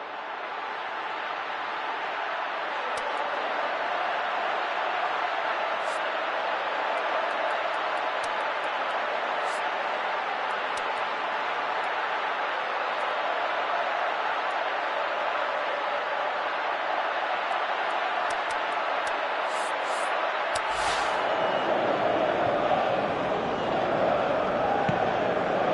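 A stadium crowd roars steadily during a Manchester United match in the PES 2018 football video game, a dense continuous wash of cheering that swells near the end beneath commentary.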